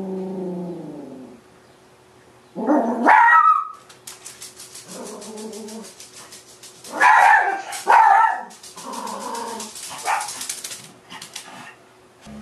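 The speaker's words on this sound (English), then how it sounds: "So now, of course, my dogs are going to bark." Dogs at a house barking at an arriving truck, bursts of loud barks with quieter whimpering and yips in between, close by and irregular.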